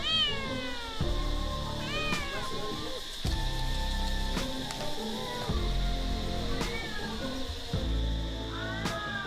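A cat meows repeatedly, close by, in a series of rising and falling cries with short pauses between them.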